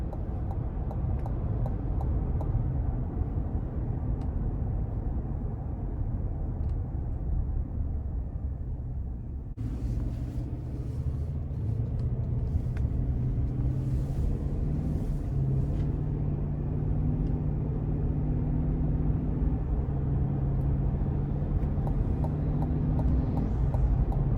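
A 2021 GMC Yukon XL Denali with the 6.2-liter engine accelerates, a steady low engine rumble heard from inside the cabin that swells slightly partway through, with no talking.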